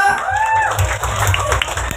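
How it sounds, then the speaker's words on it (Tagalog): Friends and classmates clap for a debutant at an 18th birthday party in Balungao, Pangasinan, a short burst of crowd applause, with a voice speaking over it near the start. "Gusto kong marinig yung palakpak na nanggagaling sa mga friends and classmates ni Shane."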